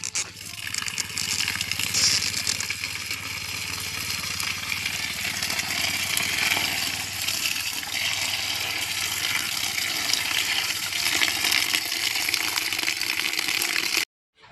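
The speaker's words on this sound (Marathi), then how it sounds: "आता स्वच्छ पाण्याने चांगली धुवून घेतलेली आहे." Fresh wild greens from the fields, spattered with rain-splashed soil, being rinsed in clean water: a steady, fairly loud rush and splash of water runs continuously for about fourteen seconds, then stops abruptly.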